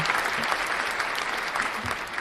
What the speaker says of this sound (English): Round of applause for Atlanta, everybody.